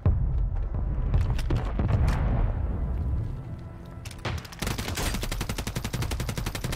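Gunfire in Call of Duty: Warzone: scattered single shots and bursts up front, a short lull, then a long rapid automatic volley, loud and close.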